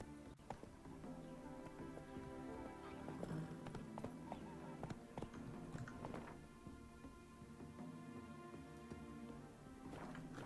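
Roach, a horse in The Witcher 3, trots with a steady clip-clop of hooves over a full game soundscape, the hoofbeats carrying on at a regular rhythm for the whole stretch.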